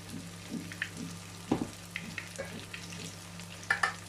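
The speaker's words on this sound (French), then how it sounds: "je remue régulièrement pour remélanger le jus des pommes de terre avec la préparation" Potato galette mixture with its own potato juice frying in a pan and stirred now and then with a utensil, giving a steady close sizzle broken by soft scraping clatters, with no talking.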